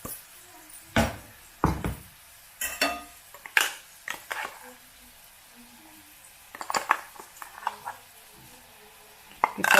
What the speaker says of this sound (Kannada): ಇದು ರುಬ್ಬಿಟ್ಟಿರೋ ಅಂಥದ್ದು ಗ್ರೇವಿ ಹಾಕ್ಕೊಳ್ರಿ ಇದರೊಳಗೆ